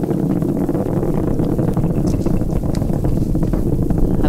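SpaceX Falcon Heavy rocket climbing during launch of the GOES-U satellite, its 27 Merlin engines producing a loud, continuous deep roar with rough, buffeting texture throughout.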